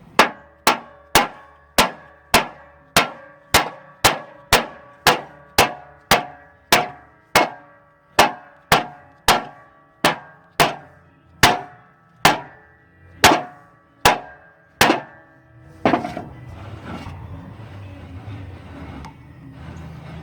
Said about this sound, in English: I'm going to try the Ford wrench, and I'm going to try it on the back side. Give it a few little love taps.